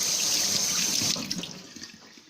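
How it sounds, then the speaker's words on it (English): Kitchen sink tap running water in a home kitchen, a steady hiss of flowing water that tails off after about a second into a few scattered drips and splashes. "Excuse the sink running."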